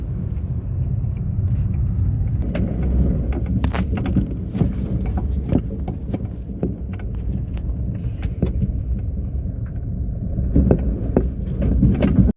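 A car being driven produces a steady low engine rumble and road noise, with scattered knocks and rattles from the cabin, loud and continuous with no talking.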